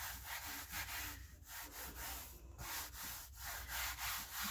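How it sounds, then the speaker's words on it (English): Fabric is rubbed flat into a crease on the inside cover of a ring binder journal, a soft, rhythmic scraping and rubbing that repeats in steady strokes, close and fairly quiet with no talking. "we're just going to rub our fabric in good and flat."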